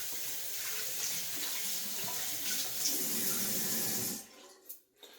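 Hands are rinsed under a running tap with a steady splash of water into the sink, which cuts off near the end and leaves a couple of faint drips.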